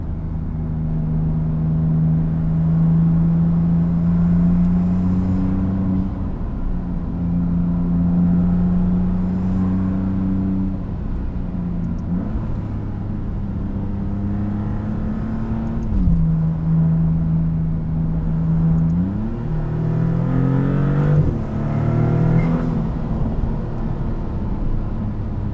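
A 2024 Maserati MC20 Cielo supercar drives along a winding road, its engine droning steadily with rising and falling revs and brief shifts as it accelerates, heard from inside the cabin.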